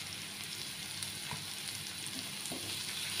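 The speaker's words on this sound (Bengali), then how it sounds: "এখন এটা করলা ঢেলে দেব।" Bitter gourd frying in a pan with onion and coriander leaves, a steady close hiss of sizzling oil with a couple of faint clinks, no talking.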